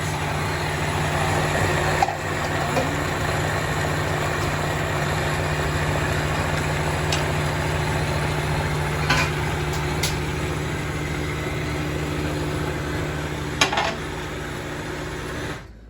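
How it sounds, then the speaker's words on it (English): Vitamix A3500 blender running continuously at a steady loud whir with a constant motor hum, a few brief clicks and knocks, then cutting off at the end. "then you can see the Vitamix A3500, it times every recipe"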